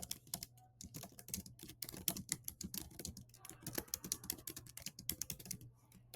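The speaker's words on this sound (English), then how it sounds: "I can type up my message and I can add this note here." Rapid, irregular clicking of keys on a computer keyboard as a message is typed, close and fairly quiet, with a steady low hum underneath and no voices.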